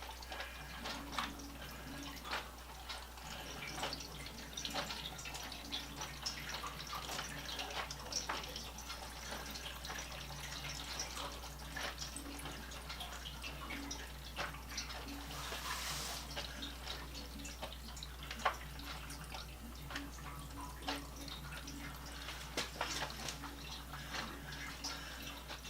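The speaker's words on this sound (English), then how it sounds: "it's draining all the pipes in the house that are connected after the water softener." Household water pipes and a water softener filter drain during a bathroom remodel, giving faint, continuous trickling and irregular dripping over a low steady hum for about twenty-five seconds.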